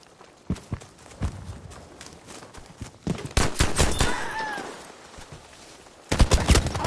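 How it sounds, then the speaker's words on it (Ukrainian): Machine gun fire in the video game Battlefield 5: bursts of rapid gunshots in clusters with brief pauses, loud and close, one heavy burst near the end, mixed with game effects and no speech. "Проти кулемета не підеш."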